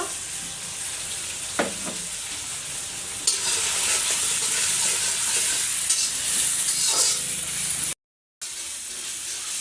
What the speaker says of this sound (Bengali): এখন একটু হচ্ছে তেজপাতা আর ডালচিনিটা দিয়ে দেবো, পেঁয়াজের সাথে ভেজে নেব।